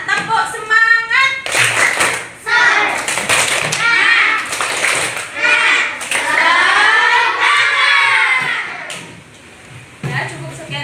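Children perform a tepuk semangat clapping chant, with rhythmic claps mixed with chanting young voices, loud and close, in several bursts.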